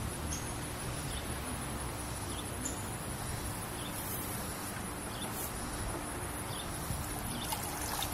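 Water boiling and hissing as a hot raku-fired clay piece sits quenching in it, a steady, dense sizzle and bubbling fizz close by that holds level throughout with no pause.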